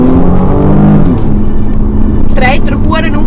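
A BMW M235i xDrive engine revs under full throttle from inside the car, giving a loud, steady drone that rises in pitch, while someone talks over it.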